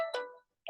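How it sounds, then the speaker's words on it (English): A mobile phone ringtone sounds in two short bursts of bright melodic tones separated by a brief pause, fairly clear against a quiet background. "that's my phone."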